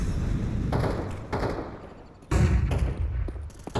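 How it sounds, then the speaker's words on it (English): Flashbang grenades thrown and bursting in a tactical shooter video game, several dull thuds and bursts spaced apart, the last one loudest, over low background game noise. "Throwing flashbang."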